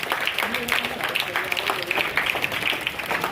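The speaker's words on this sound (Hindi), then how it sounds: "आप तमाम की जोरदार तालियों के साथ" Audience applause for a prize-winning student called to the stage at a school prize ceremony, a dense wash of clapping that runs steadily through the clip while a voice speaks over it.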